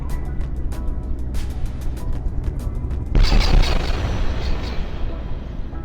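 Explosions from naval or artillery combat in the video game From the Depths, a sudden loud burst of several blasts close together around the middle, then a rumbling decay over steady background noise.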